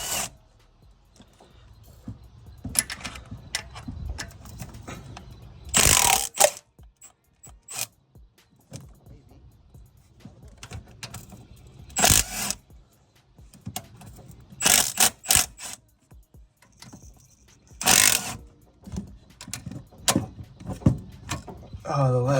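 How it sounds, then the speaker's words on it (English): A ratchet wrench clicks in short bursts with pauses while valve springs are installed on an engine, close and fairly quiet, with occasional metallic handling noises. "we'll just go ahead and pull out the old ratchet"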